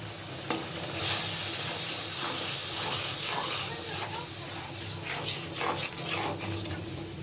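Mustard paste hits a hot pan of cooked-down spices while cooking drumstick curry, giving a steady soft sizzle and hiss with occasional stirring scrapes, fairly quiet and close.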